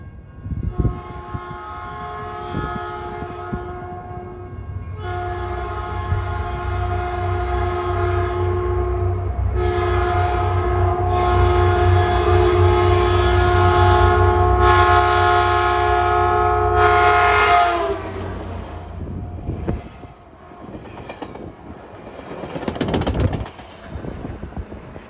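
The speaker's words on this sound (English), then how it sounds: "Here comes train 708, the first southbound Baby Bullet" Caltrain Baby Bullet train 708 passes southbound trackside, a loud rising roar of the train with a long sustained horn blast, then the sound fades as it moves away.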